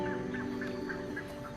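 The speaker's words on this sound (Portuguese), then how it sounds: "As aves aquáticas estão prontas para pôr seus ovos." Waterbirds in the Pantanal wetlands during the dry season give a rhythmic series of honking calls, steady and moderately near over a continuous low droning background.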